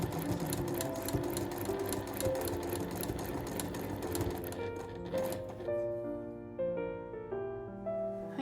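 A sewing machine stitching homemade room pants runs in a steady fast whir of needle strokes, close and clear, then gives way to quieter tones near the end.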